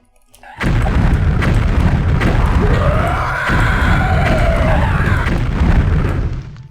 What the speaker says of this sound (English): I killed 2 skeletons with that explosion